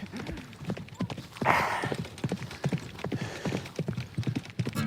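Horse hooves clip-clopping at a trot during an endurance ride, a rapid regular rhythm of close, crisp hoofbeats, with a brief gust of noise partway through.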